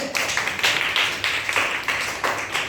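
Rhythmic group clapping in a classroom lesson, about eight evenly spaced loud claps in a steady beat, close and without talk.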